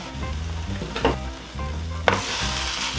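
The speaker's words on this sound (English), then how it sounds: "I'm gonna drop in my pound of ground beef and get it going." A pound of ground beef sizzles and fries in a pan over medium heat for a simple soup, a steady close crackle broken by stirring scrapes.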